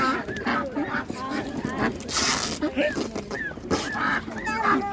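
Several large ducks honk and call repeatedly nearby at an animal market, with people talking and busy background noise around them.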